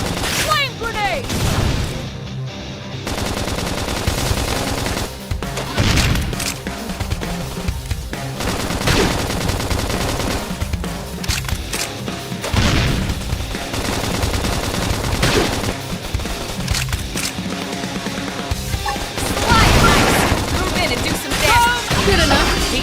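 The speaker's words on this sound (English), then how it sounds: "Now pump them full of lead while they're down." Video game combat with rapid gunfire and machine-gun bursts, booms and impacts running steadily throughout, loud and dense, while voices talk over the action.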